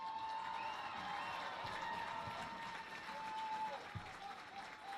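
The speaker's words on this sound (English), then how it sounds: "let's give a warm round of applause for Carmen Byers." A high school homecoming crowd applauds at a football game, producing steady, moderately faint clapping and crowd noise that lasts several seconds under an open-air ambience.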